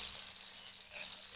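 Red chilies, bird's eye chilies, shallots, garlic, kencur and a little ginger frying together in hot oil, a steady close sizzle that runs evenly throughout.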